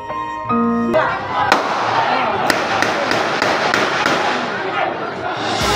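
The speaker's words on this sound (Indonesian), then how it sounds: "Suara tembakan terdengar bersahutan." Sharp bangs crack out one after another, a rapid volley of gunshots echoing over a noisy, crowded background in a village in Mesuji, Lampung, Indonesia.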